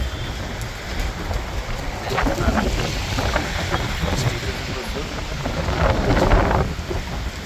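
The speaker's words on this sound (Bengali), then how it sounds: "বাতাস, বৃষ্টি, মেঘ তো সেটি যদি আসে সব ডুবে যাবে, সব প্রচুর বৃষ্টি হইতেছে।" Heavy rain pours steadily in East London with wind gusting through it, a dense continuous roar that swells louder near the end, with no voices heard.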